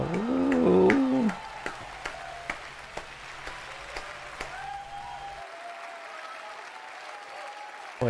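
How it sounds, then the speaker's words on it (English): A crowd applauds and cheers at a PAX East Borderlands 3 reveal panel: loud clapping with a whoop at first, then thinning into scattered claps that fade to a quiet hall. "What an excited crowd."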